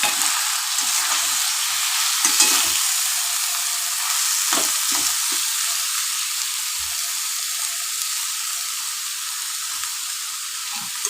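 Chopped banana flower fries in a pan with a steady close sizzle and hiss, broken by scraping and clinking strokes as it is stirred, with no talk over it.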